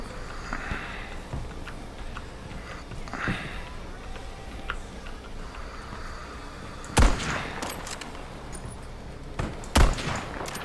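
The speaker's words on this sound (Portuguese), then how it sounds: "vejo tiros de sniper a passar que nem é bom" Sharp video game sniper rifle shots crack twice over a low rumbling background, distant muffled pops and soft noise filling the gaps between them.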